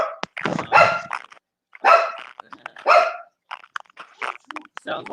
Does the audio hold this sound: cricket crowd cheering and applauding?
no